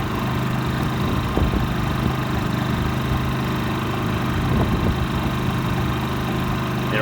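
A Generac IQ3500 inverter generator running at a steady drone, loud and close, with a constant low engine hum and slight fluctuations, no talking.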